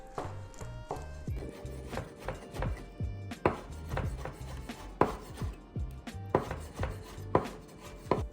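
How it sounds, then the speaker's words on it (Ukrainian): Peeled eggplant flesh being finely minced with a knife on a board, a rapid steady run of crisp chopping taps close by, repeating throughout with a few louder strikes. "Очищений баклажан ми також дуже дрібно нарізаємо майже до стану пюрешки або кашиці якоїсь."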